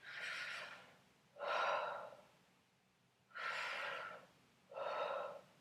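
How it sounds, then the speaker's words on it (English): Slow, deep belly breaths in a breathing exercise, four distinct airy breath sounds, each lasting about a second with pauses between, close and fairly quiet. "And that's the proper way to do a belly breath."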